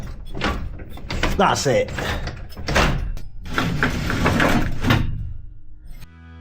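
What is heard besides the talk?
bunker door being opened and closed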